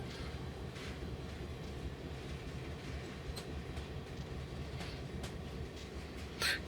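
Union Pacific GP38 locomotives running in the video game Train Simulator 2018, a low steady rumble of rolling rail wagons with faint clicks and a soft squeal near the end, no talk.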